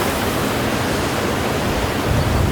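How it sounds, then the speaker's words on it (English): Sea waves crash on rocks along the shore at Hermanus beach, a loud, unbroken wash of surf that fills the whole stretch with dense roaring noise. "Waves crashing on the rocks as you're walking in the rocks."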